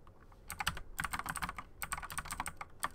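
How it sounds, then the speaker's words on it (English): Rapid bursts of computer keyboard typing while entering a chat message, clustered keystrokes with short pauses, close and moderately loud with no voices. "I'm typing in chat."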